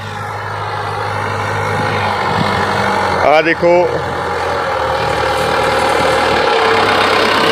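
A steady, rumbling tractor engine drones throughout at close range while ploughing under a chilli crop field, with a brief voice speaking over it partway through.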